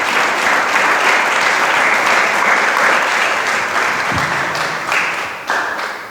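A church congregation claps steadily and loudly throughout, a dense continuous wash of applause that thins briefly near the end before swelling again.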